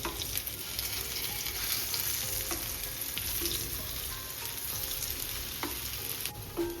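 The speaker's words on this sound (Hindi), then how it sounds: "स्लो आंच पे ही बनाएंगे ताकि अच्छी तरह से फ्राई हो, सबको इसी से पलटते जाएंगे।" Taro-leaf fritters fry in oil over a low flame with a steady, close sizzle, and the spatula scrapes and clinks now and then as they are turned. Nobody speaks.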